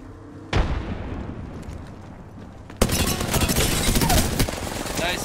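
Apex Legends game combat with a thermite and frag grenade going off amid gunfire: a sudden blast, then a second loud burst that gives way to dense, continuous shooting and crackling explosions.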